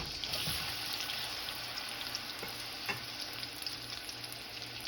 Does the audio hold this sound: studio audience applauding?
no